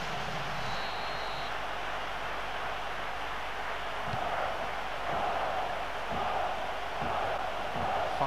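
Stadium crowd noise from the PES 2013 football video game during an Oporto vs Málaga match, a steady wide roar that swells slightly toward the end. It stays continuous and fairly loud with no separate voices.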